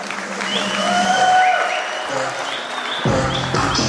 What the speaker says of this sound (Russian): Аплодисменты, девушка!